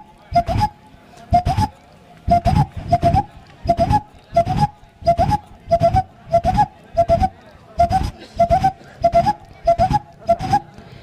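Folk instrument played to imitate the call of the hetuluka bird, a clear whistling coo repeated in a steady rhythm, about a dozen evenly spaced pairs of hoots, close and alone.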